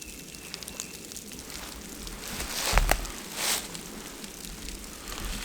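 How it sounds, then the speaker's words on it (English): Rain falls steadily on leaves during a turkey hunt, a dense constant hiss with a couple of brief louder knocks partway through. "this rain's on the leaves is too loud"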